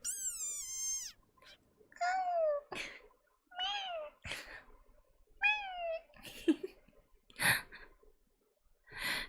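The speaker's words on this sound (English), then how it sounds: "Thank you for the desert rain frog sound." A string of shrill, squeaky chirps, each sliding downward in pitch, repeats several times up close with short breathy sounds between them.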